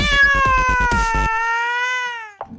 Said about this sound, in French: Ah, le petit chat est libéré.